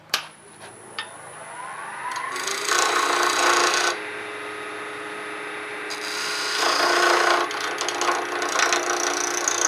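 Abrasive rasping of sandpaper or a parting tool against spinning wood on a lathe, cleaning up a turned piece, in several loud, bright bursts separated by quieter spinning hiss, with a sharp tap at the start and no talking.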